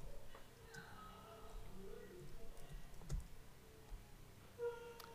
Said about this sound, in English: So if I type a chapter note,